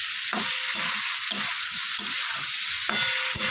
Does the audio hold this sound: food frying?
yes